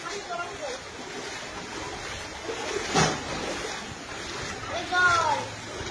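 Floodwater current rushing through a submerged village market, a steady broad wash with a couple of louder surges, heard outdoors over faint wind.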